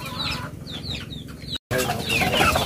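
Chickens cluck and chatter close by while being fed Gallimax and duck layer feed, a busy run of calls broken by one short gap.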